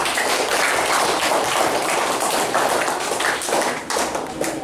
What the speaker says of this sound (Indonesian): Oh, boleh tepuk tangannya, Mas ya.